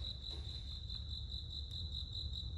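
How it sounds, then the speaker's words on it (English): A steady, high-pitched cricket chirp trills continuously on its own over a low background hum, fairly close and persistent, inside a 2016 Cadillac Escalade. "crickets, because, you know, there's one in here and it's really annoying"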